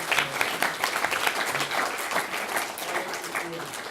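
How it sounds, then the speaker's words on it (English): Audience applause for panelists at a public panel discussion on human and sustainable development goals, a fairly close, even patter of many hands clapping, with a few individual claps standing out. "little round of applause to our esteemed panelists."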